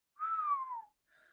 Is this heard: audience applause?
no